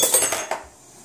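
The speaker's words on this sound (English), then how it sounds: "We put away the dishes." Dishes and cutlery being put away in a home kitchen, a quick run of metallic clinks and clatters over about half a second, then a fading ring.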